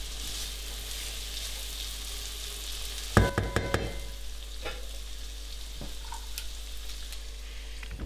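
Vegetables cooking in butter with spices and herbs in a pan, a soft continuous sizzle with a brief cluster of clattering knocks midway, likely from the lid going on.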